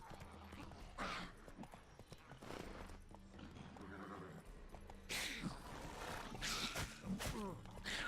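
Horse hooves clip-clop in a video game, a steady rhythmic patter under game noise and bursts of other sound, with a player talking over it.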